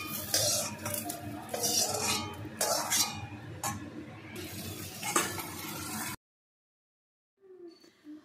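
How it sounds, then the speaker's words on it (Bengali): Potatoes frying in a pan, loud sizzling with clattering stirs and utensil knocks against the metal for about six seconds, then sudden quiet with a faint brief sound near the end. "আলু দেখো একসঙ্গে বেশ ভালো করে ভেজে নিলাম"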